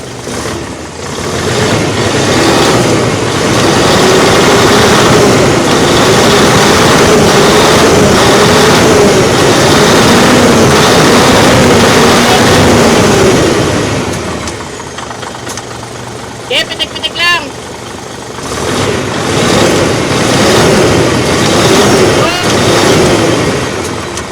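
An Isuzu 6WG1 diesel engine idles steadily and loudly after a hard start at low power, its rumble dipping briefly near the middle before returning, with people talking over it.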